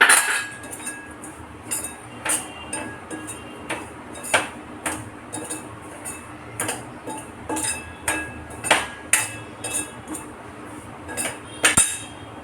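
Coriander and fennel powder dry roasting in a pan over low heat, with a utensil clinking and tapping against the metal in an irregular, steady series of sharp, close ticks.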